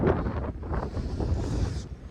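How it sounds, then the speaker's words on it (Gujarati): Strong wind blowing outdoors during a snowstorm, buffeting the microphone with a steady, loud roaring rush for a couple of seconds, no voices. "પવન બહુ હ"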